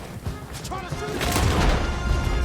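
Gunfire in Red Dead Redemption 2 during a chase toward a bridge with a roadblock, sharp impulsive shots and crashes over a dense rumbling game mix, with voices heard amid the action.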